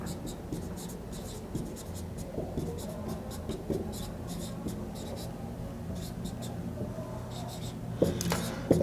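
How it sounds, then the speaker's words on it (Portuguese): Marker or chalk writing on a board during a Portuguese-language maths lesson on fractions, heard as a steady series of short squeaky strokes and taps, fairly close, with a louder knock near the end and no talk over it. "vou escrever aqui, o 2"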